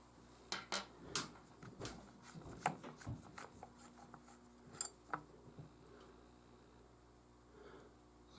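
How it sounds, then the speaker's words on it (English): Small metallic clicks, taps and scrapes from screws being worked loose on an 1874 Gras rifle, close and fairly quiet, coming in irregular bursts before trailing off into near silence. "we're going to take the screws out"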